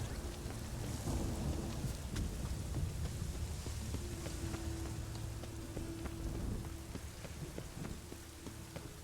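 Steady rain patters on a surface in The Witcher 3 while low thunder rumbles in the background, with occasional sharp drops and crackles; no voices.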